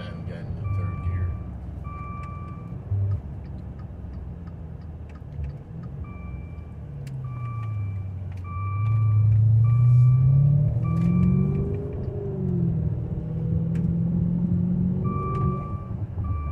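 A Maserati Levante V8 SUV driving, with a low engine rumble that swells and rises in pitch as it accelerates midway, while repeated electronic chimes beep over it and people talk quietly inside the cabin.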